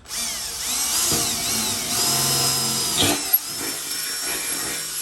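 Power drill with a black and gold bit boring quarter-inch holes through soft steel shelving, a steady loud whine with grinding bit noise throughout, rising slightly in pitch, with a brief sharp clunk near the end.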